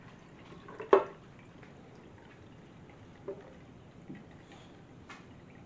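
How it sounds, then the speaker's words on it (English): Homemade almond milk poured from a blender into a milk bag in a home kitchen, heard as a short liquid splash followed by a few faint, scattered drips. "So I'm going to pour my milk into my milk bag."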